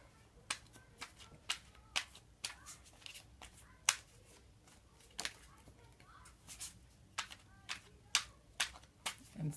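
A card deck called the Dreaming Way is shuffled by hand, giving a series of crisp, quiet riffles and snaps at an uneven rhythm, fairly close and faint.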